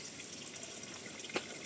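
Natural spring water from a hillside source runs into a sink at a farm, a faint steady trickle with one brief louder splash, no voices.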